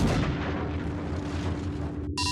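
Starship battery weapons fire in an audio drama during a space battle, a dense rumbling barrage of heavy booming blasts that runs continuously and ends with a brief electronic tone.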